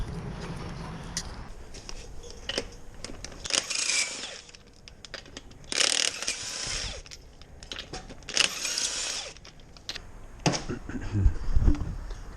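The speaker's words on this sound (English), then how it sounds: "I'm gonna take the wheel off." Lug nuts come off the wheel of a Ford F-250 truck with torsion bars in a garage, bursts of loud whirring from a power tool separated by clanks, rattles and handling noises.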